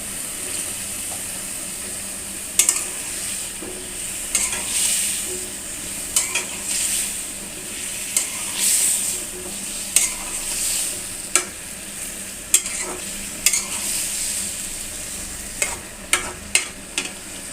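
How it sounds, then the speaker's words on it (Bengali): Sweet pumpkin being stirred and sautéed in a pan in a home kitchen, with a steady sizzle of frying and repeated sharp scrapes of a spoon against the pan. "মিষ্টি কুমড়াগুলো ভালো করে কষিয়ে নেব"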